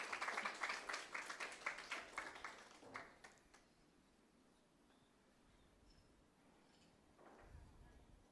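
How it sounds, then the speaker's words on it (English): An audience at an archive project launch claps for two people coming forward, a burst of clapping that fades after about three seconds, leaving quiet room noise and a brief low thump near the end. "Maybe you want to clap for them?"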